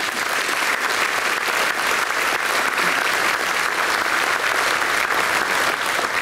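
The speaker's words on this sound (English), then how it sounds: "Please give our graduates a round of applause for their accomplishments." Steady, loud applause fills a university alumni reunion banquet hall as the crowd claps for graduates, an even unbroken roar of hands with no voices standing out.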